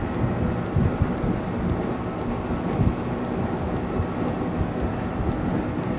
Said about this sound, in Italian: Sono tutti spremuti al massimo questi motori, sono tutti al loro massimo consumo